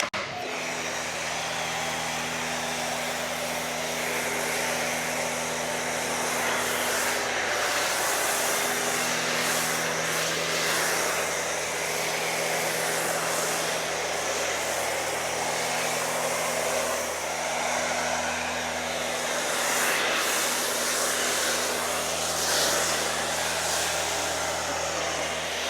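A pressure washer runs through a foam cannon as Meguiar's Shampoo Plus is sprayed onto a Rivian R1S, a continuous loud hiss and motor drone with a steady hum underneath, unbroken for the whole stretch.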